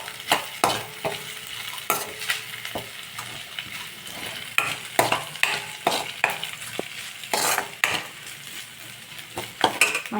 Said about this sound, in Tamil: கருவேப்பிலை போட்டால் நல்லா இது ஃப்ரை ஆகிடும்